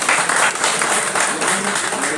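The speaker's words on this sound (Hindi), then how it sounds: "प्लीज इसके लिए एक बार ताली बनता है।" An audience at a bird society seminar in Delhi claps loudly and continuously, with voices talking through the applause.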